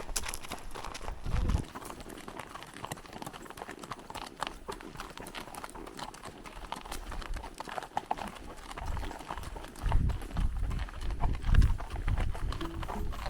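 Horse hooves clip-clopping on the trail during an endurance intro ride, a steady rhythmic beat heard over wind and outdoor rumble, with heavier thuds near the end.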